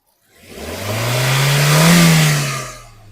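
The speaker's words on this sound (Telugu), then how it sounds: "నీట్ అండ్ సైలెంట్గా ఉందండి ఇంజన్, నీట్గా ఉంది, సైలెంట్గా ఉంది ఇంజన్." A 2015 Hyundai Grand i10 Sports petrol engine revs up from quiet to a smooth, steady hum, swelling louder near the middle before easing back down, close and clear with no voices.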